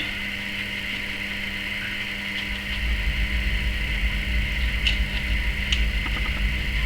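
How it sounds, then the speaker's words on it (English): A clothes dryer's steady mechanical hum and whirr runs continuously in the background, growing slightly fuller partway through, with no speech. "I do apologise if you can hear my dryer in the background,"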